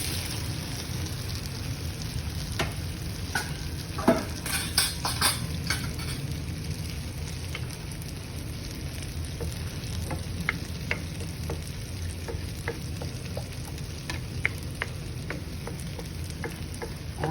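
Eggs sizzle and fry in a pan of sautéed eggplant, with steady close crackling and occasional scrapes and clinks of a utensil stirring throughout.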